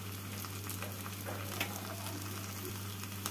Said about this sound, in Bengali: অল্প জল দিয়ে মশলাটাকে কষিয়ে নেব।